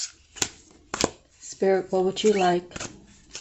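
Akashic tarot cards are shuffled in short riffled bursts with sharp card snaps, heard close and under a voice talking.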